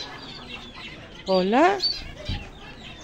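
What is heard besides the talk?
chicken clucking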